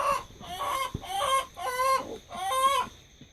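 Young pullet hens cluck in a few short, rhythmic bursts, fairly close and clear, with no talking over them.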